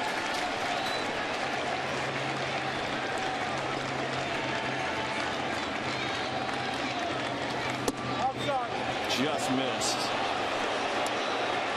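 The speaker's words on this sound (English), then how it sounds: "Crowd doesn't like it." Baseball stadium crowd at a St. Louis at New York Mets game groans and murmurs in displeasure after a near miss, a steady broad wash of crowd noise under a play-by-play announcer's voice.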